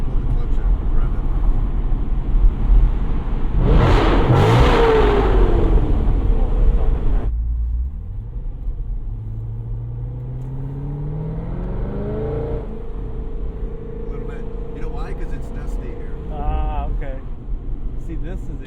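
A C6 Corvette Z06 engine in a tunnel, heard from inside the car: a loud revving burst, then the pitch sweeps down and climbs again as the engine drones steadily, with people talking over parts of it.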